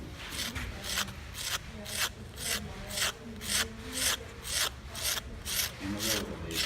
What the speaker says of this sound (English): I'm actually scraping too much of the clay away